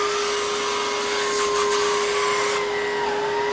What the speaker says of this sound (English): this is entry-level central vacuum power